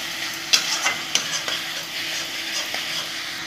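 Ginger and garlic paste fries in a pan with a steady soft sizzle, broken by several sharp scraping stirs and taps of a utensil against the pan.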